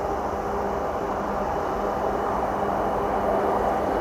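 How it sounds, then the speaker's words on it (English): A steady, broad rumble drones without pause, like a train heard from a distance, constant in loudness throughout. "There is a train out there somewhere"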